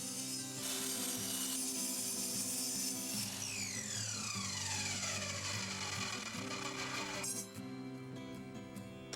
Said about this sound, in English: Now I can measure and cut legs to length, taking in account the thickness of top.